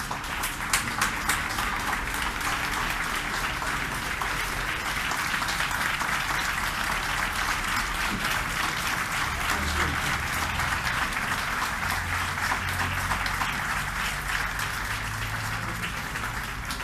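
A crowd applauds continuously and evenly at a library centenary plaque unveiling, a dense wash of clapping that holds steady throughout without voices rising above it.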